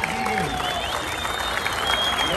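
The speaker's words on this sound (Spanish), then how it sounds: "Un aplauso," An audience applauds at a Puerto Rico import car festival, a dense steady clapping that stays loud for the whole moment, with crowd noise and a voice speaking over it.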